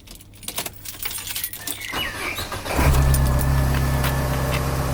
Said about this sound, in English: So we'll start the van up now.